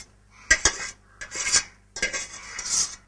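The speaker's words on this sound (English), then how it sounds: "now I'm just transferring the rice to the milk" Cooked rice being scraped and spooned from a pot into boiling milk for payasam, three bursts of metal utensil scraping and clinking against the cookware, close and fairly loud, separated by short pauses.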